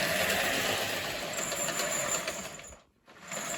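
A Lionel General model train engine running along its track, a steady close whirring rumble with fine clicking texture that briefly cuts out near the end before resuming.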